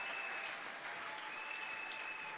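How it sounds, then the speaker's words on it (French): A church congregation bursts into sustained, dense applause and cheering that fills the hall at an even loudness throughout, with no break or lull. "Est-ce qu'on peut acclamer très fort le Seigneur?"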